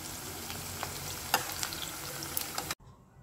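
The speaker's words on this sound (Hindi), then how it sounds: "बहुत गर्म तेल में प्याज को फ्राई करें तो प्याज जल्दी फ्राई होती है" Sliced onions fry in very hot oil with a steady, soft sizzle. Scattered crackles and pops sound over it before it suddenly cuts away near the end.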